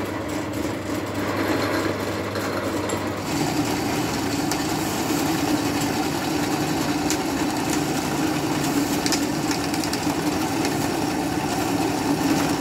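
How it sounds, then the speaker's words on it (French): Small drill press boring holes in stainless steel plate, a steady motor hum that swells into a louder, grinding cutting drone about three seconds in and keeps on without pause. "Ouais, avec la petite perceuse à colonne qui est juste là. Alors, on va percer 2 trous"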